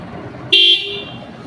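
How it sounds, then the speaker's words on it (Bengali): A Bajaj Pulsar 150 BS6 motorcycle horn gives one short, loud, close beep of about a quarter second, standing clearly above a low background hum. "দেখুন হর্ন"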